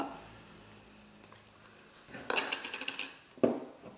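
Unsalted cheese and sugar being mixed in a bowl for an almond Easter nest cake: a burst of close scraping and clinking utensil-on-bowl sounds mid-clip, then a single sharper knock, over a quiet background.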